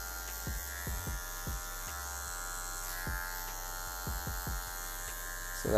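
An electric hair clipper buzzes steadily and up close while cutting a skin fade with a razor finish, with a constant motor drone and repeated short strokes as the blade passes through hair.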